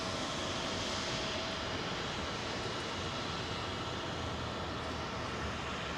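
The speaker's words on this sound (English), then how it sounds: "It's the royal flight, Amiri flight, which is from Doha" Amiri royal flight aircraft from Doha at Heathrow, a continuous, fairly distant engine rumble and broadband roar holding steady for several seconds with no voices over it.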